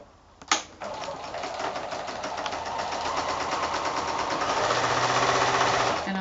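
A sewing machine stitches quilt fabric with a quarter-inch seam. It starts with a click, then a rapid mechanical needle chatter that grows steadily louder and continues close up, with no talking.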